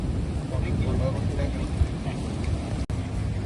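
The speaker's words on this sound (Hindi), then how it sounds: "ಸಮುದ್ರ ತುಂಬ ರಫ್ತಿದೆ ಈ ಟೈಮಲ್ಲಿ" Rough sea surf pounds the shore at Maravanthe beach in a steady, loud roar with heavy wind buffeting the microphone, while people talk faintly underneath.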